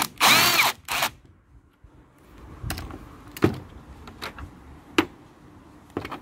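A cordless power tool gives a short loud burst as it spins out a 10mm bolt on a Cadillac Escalade, then sparse clicks and knocks of parts being handled follow.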